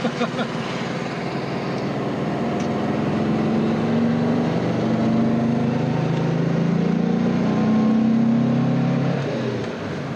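A Porsche 356B engine hums and rises in pitch as the car drives and accelerates, with a steady, loud cabin drone and a rev climbing gradually.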